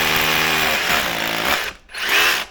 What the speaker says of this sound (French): il faut arriver à trouver des pierres pour percer dedans